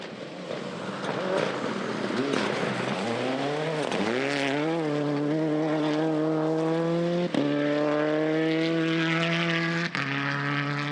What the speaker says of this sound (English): for Nathan Quinn, Stage 7 was hammer time and finally got the car sorted